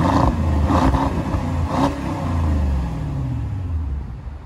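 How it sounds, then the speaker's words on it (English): A Porsche Cayenne Turbo with a V8 and quad exhaust, its engine rumbling and revving up close, loud deep roar easing into a steady lower drone, with no voices. "the car sounds pretty good"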